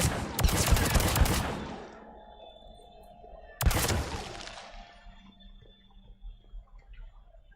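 Rapid video game gunfire shooting eggs, a dense burst of crackling shots for about two seconds, then a second sharp volley that fades into quieter ticking and dripping sounds.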